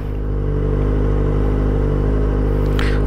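A Kawasaki ZX-25R with a Prospeed Shark high-mount exhaust rumbles loud and close in a steady, continuous engine drone, with a brief rise in tone near the end.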